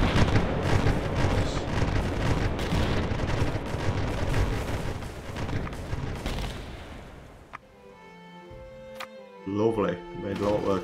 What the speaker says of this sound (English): Get them with a smoke bomb.